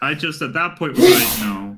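After a short stretch of someone talking, a single sharp, breathy sneeze bursts out close to the microphone and trails off over the following half second.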